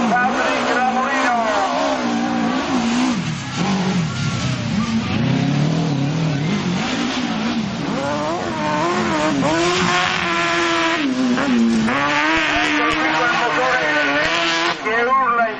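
A racing engine screams and revs hard at high pitch at a hill-climb race event, rising and falling through gear changes, loud and close, with an Italian commentator talking over it.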